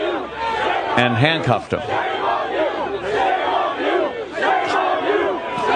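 A crowd at Dealey Plaza shouts and jeers loudly and continuously, many voices overlapping in angry cries, with a person speaking briefly amid the din.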